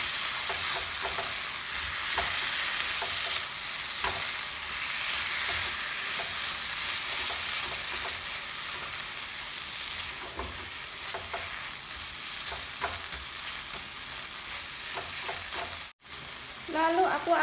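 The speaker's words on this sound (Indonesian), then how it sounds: "Kita oseng-oseng lagi." Continuous sizzling of eggs and tomatoes stir-frying in a pan, with intermittent scraping and clinking of a utensil stirring, briefly cutting out near the end.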